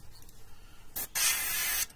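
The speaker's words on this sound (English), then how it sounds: "I'm going to keep spraying since I'm not spraying real heavy" Two bursts of airbrush or spray-gun paint hiss while coating a model in a spray booth that has shut off; a short near burst, then a steady louder spray lasting under a second, alone with no talk.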